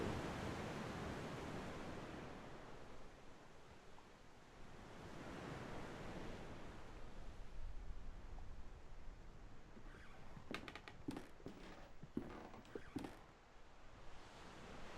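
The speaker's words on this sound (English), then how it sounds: "The side of the cliff is heavily exposed to the harsh winds and waves." Harsh wind and crashing waves roar steadily against a sea cliff in the adventure game The Last Door, a broad constant wash of noise that swells and ebbs, with a few faint clicks near the end.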